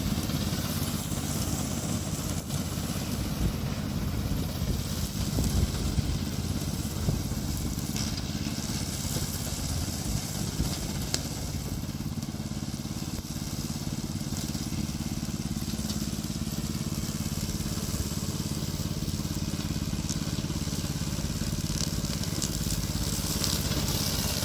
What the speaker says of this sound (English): Today I'm going to introduce our remote controller Mower.